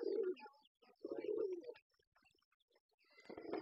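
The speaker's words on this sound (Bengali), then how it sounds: "কবুতরটা আসে" A pigeon coos softly up close in a few low, throaty bursts separated by short pauses, with faint chirps and rustling in between.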